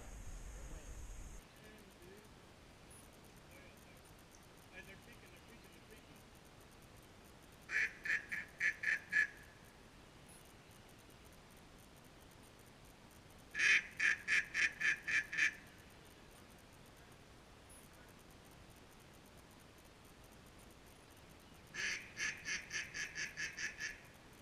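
Mallard ducks quacking at a distance on a Georgia duck hunt, three short bursts of rapid repeated quacks spread apart over quiet, faint wind-like background.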